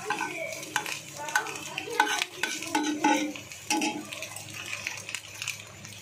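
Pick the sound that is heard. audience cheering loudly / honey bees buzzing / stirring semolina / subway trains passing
stirring semolina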